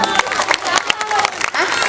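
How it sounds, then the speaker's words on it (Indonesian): Children at a Ramadan Islamic boarding school activity clap their hands together in a brief, lively burst, with crowd chatter mixed in close by. "Tepuk tangan dong."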